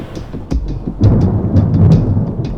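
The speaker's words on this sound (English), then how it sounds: "outside a dramatic storm front is bearing down on Atlanta" Thunder from a dramatic storm front over Atlanta rumbles loud and continuous, with steady heavy rain hissing throughout and a few sharper crackling bursts, no voices.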